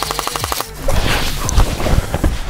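Airsoft guns fire in rapid bursts during a battle royale match, starting with a clear run of evenly spaced shots and then blurring into denser, louder rattling bursts amid rustling movement.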